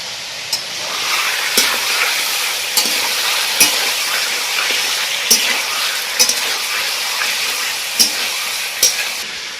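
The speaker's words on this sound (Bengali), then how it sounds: "আমি এইভাবে পাঁচ মিনিটের মতো রান্না করব ভালো করে একে পাঁচ মিনিট নাড়িয়ে নেব" Spice paste sizzling and frying in a pan for chicken masala, with a loud, continuous hiss broken by sharp scrapes and clinks of a spoon stirring against the pan every second or so.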